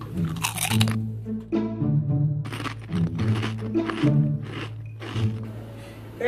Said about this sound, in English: Can you crunch any louder?